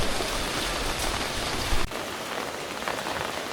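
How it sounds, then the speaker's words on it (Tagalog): Steady rain falls in the Old Town of Omis, Croatia, a dense, even hiss of drops on surfaces that holds throughout with a brief louder spatter near the middle. "Ayaw talaga tumigil ang ulan."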